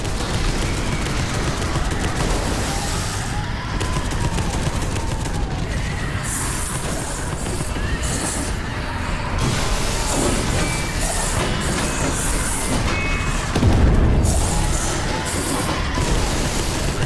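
Gunfire in Space Hulk: Deathwing, a sci-fi shooter set aboard a derelict ship: dense, continuous bursts of automatic fire blend with heavy rumbling booms and machinery, loud and sustained throughout with no clear pause.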